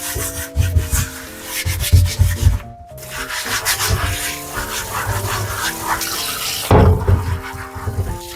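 A scourer scrubs a Skeppshult cast iron pan in repeated rough, gritty strokes, loud and close, with brief pauses and some water-like splashing between bursts.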